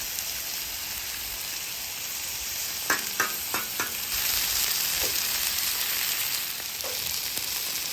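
Chicken and rice sear on a hot griddle in a steady, loud sizzle, with a few sharp spatula scrapes and taps breaking through in the middle; no one talks.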